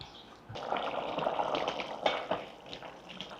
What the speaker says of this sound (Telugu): వన్ ఫిఫ్టీ ఎంఎల్ వాటర్ పోసాను